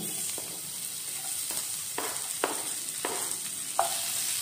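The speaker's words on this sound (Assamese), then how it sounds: "পিঁয়াজখিনি ভাজি দিম" Continuous crackling sizzle of onions frying in oil after garlic, with occasional spatula scrapes and stirring knocks at irregular intervals.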